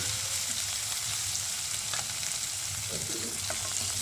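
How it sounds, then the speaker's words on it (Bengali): Fish frying in a black wok for a Malabar spinach and fish dish, giving a steady, close hiss and sizzle of hot oil with faint stirring clicks throughout. "আর এই পাশে কিন্তু আমি একটা কালো কড়াই বসিয়ে দিয়েছি, তাতে কিন্তু মাছগুলো আমি ভেজে নিচ্ছি।"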